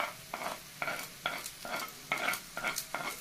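Chopped onion stir-fried in a pan while making gujiya, a sizzling hiss broken by repeated scraping stirs about twice a second, close and clear with no talking.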